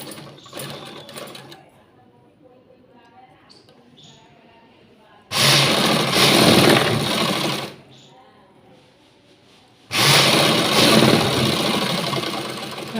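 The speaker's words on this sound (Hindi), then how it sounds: "रख करके सिलाई लगा देंगे।" A sewing machine stitches a blouse strip folded over with its lining, running in two long loud bursts separated by quieter handling and faint background noise.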